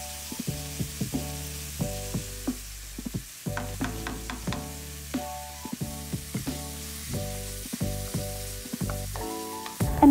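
Garlic is grated into a hot pan for a stir fry, giving close, fairly faint sizzling in repeated short bursts as pieces land, with no talk.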